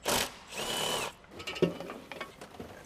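A power tool, such as a drill or impact driver, removing exhaust manifold bolts on a Ford Mondeo ST220, in short close whirring bursts followed by quieter mechanical clicks and clatter, with no talk.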